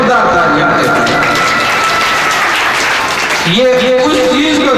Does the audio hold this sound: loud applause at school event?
yes